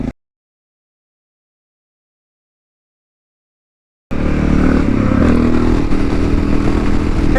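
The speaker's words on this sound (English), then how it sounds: "We're gonna go until this old XRL can't get me any farther. We're riding a stream now." A Honda XR650L dirt bike rides through a stream, its engine droning loud and close with splashing and clattering over rough ground, starting abruptly after about four seconds of silence.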